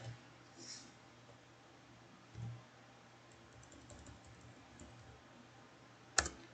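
Close, quiet typing on a computer keyboard: a few soft scattered key taps over faint room hiss, ending with one sharp, louder press of the Enter key.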